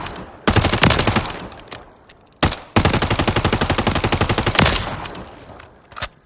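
Rapid automatic bursts from an AR-platform rifle in Call of Duty Modern Warfare III, loud close gunfire in three long strings with brief gaps between them and a short burst near the end.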